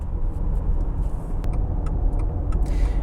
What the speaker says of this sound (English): it's on the highway that you hear the road noise